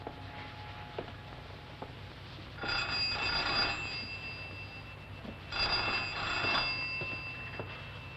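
An older telephone rings in two bursts of trilling bell, each lasting about a second and a half with a pause between, heard at moderate distance over a quiet room.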